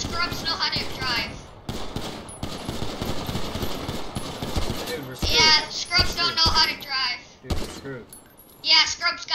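Rapid bursts of gunfire from the video game Grand Theft Auto 5, loud and repeated, with players talking over the shooting throughout.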